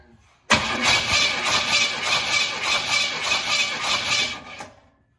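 A 1969 Pontiac Bonneville V8 cranks over on the starter during a compression test on cylinder 2, a steady rhythmic churning that runs loud and close for about four seconds without firing, then stops.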